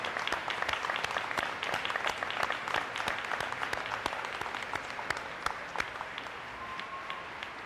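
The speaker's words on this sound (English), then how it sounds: "Folks, would you please give them a round of applause?" An audience at a school opening ceremony applauds, a steady wash of many hands clapping with sharp individual claps standing out, sustained at moderate distance before easing slightly toward the end.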